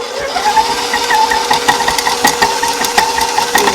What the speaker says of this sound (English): we're going to beat them in the mixer